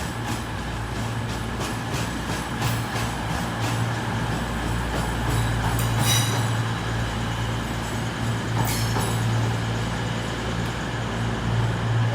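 A CrossCountry Class 220 pair rolls through Sheffield station with a steady rumble and hiss of passing stock, punctuated by brief clanks, heard fairly close on the platform.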